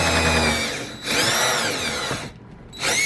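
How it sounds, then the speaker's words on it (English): A power drill whines loudly in close bursts, drilling a small hole in a car door, pitch rising and falling as it bites into material, with a brief pause before spinning up again. "we're gonna drill a small hole here so we can get the rod through"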